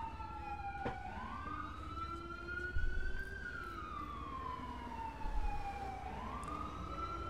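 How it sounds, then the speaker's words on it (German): A police siren in GTA V wails continuously nearby, its pitch sweeping slowly up and down in long cycles. Low engine rumble sits under it, and no one speaks. "Wer hat denn hier diese scheiß Sirene an die ganze Zeit?"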